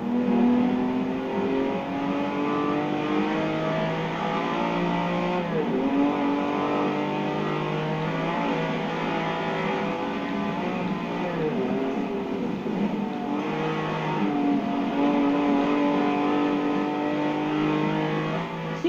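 A Lamborghini Countach's engine races hard in Forza Horizon 4, a loud, continuous roar whose pitch climbs and drops as it revs through gear changes without pause.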